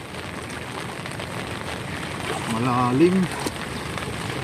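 Heavy rain hisses steadily during flooding, a dense close wash of sound throughout, with a voice speaking briefly over it near the middle.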